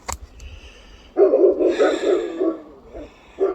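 Dogs bark in a forest near a dog kennel, a run of rapid overlapping barks from a little distance, with a short yelp before and another bark starting at the end.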